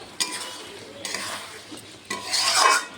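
Jackfruit curry masala with turmeric and tomato being stirred and fried in a pan, giving three bursts of scraping and rasping, each louder than the one before, with the last and longest at the end. No one speaks.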